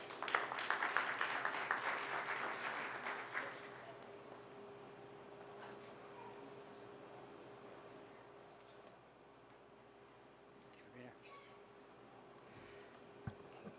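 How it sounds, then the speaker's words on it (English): At a school board of education meeting, the audience gives brief, moderate applause that fades after a few seconds into quiet room tone with faint stray noises. "Let's give him a round of applause."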